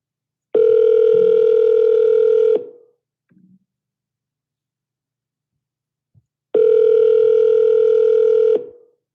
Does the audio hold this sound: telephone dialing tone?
yes